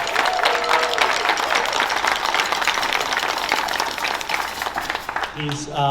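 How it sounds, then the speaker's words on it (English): Audience applause at a school jazz band and percussion ensemble spring concert, a steady wash of many hands clapping that fades near the end as a voice begins to speak. "can we give another round of applause for all the students who performed tonight in both groups?"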